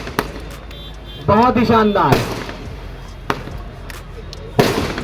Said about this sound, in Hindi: आकाश को भेजता हुआ ये पहला इनका पटाखा, बहुत जबरदस्त